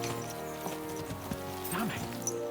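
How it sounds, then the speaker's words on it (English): Horses galloping in the video game Kingdom Come Deliverance 2, a steady clip-clop of hooves running under continuous music and game ambience, with a brief whinny-like tone and a voice talking over it. "Let's really spur these horses on, eh?"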